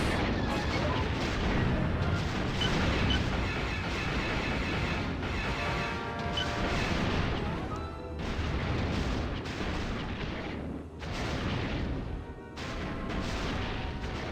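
A starfighter firing on cargo containers in the Star Wars space combat game X-wing Alliance, a dense, continuous rumbling barrage of laser blasts and explosions that stays loud for the whole stretch, with voices talking over it.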